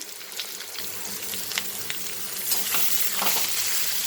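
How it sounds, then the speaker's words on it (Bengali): Garlic, ginger and tomato sizzle in a hot pan with onion and potato, a steady crackling fry with occasional sharper spatters and stirring, close and fairly loud, with no voices. "রসুন আদা দিয়ে একটু ভাজা ভাজা করবো এর মধ্যে আমি টমেটোটাও দিয়ে দেবো"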